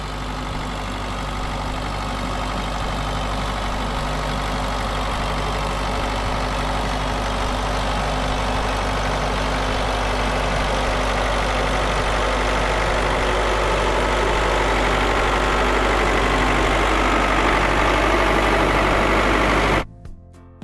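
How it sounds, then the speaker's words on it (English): A turbocharged Yanmar engine in a 2004 John Deere Gator runs steadily close by, a constant low rumble with a hum that holds level throughout and cuts off abruptly near the end. "a John Deere Gator from 2004, powered by a turbocharged Yanmar engine, rolls up"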